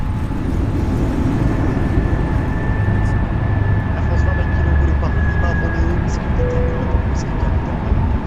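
Airbus A320 airliner with the FlyByWire A32NX mod climbing after takeoff in Microsoft Flight Simulator, a constant loud engine roar with a faint whine held throughout.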